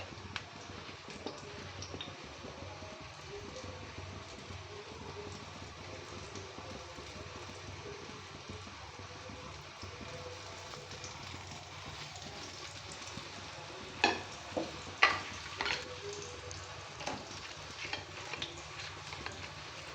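Slices of pointed gourd (potol) shallow-frying in oil over medium heat, a constant soft hiss and crackle throughout, with a few sharper clicks of a utensil turning the pieces late on.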